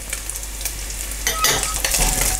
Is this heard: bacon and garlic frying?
yes